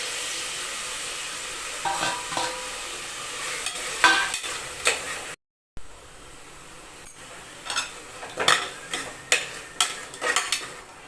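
Chopped tomatoes sauté in a hot pan for mushroom biryani, a steady sizzle broken by repeated sharp scrapes and clanks of a spoon stirring against the metal, loud and close, with a brief cut partway through.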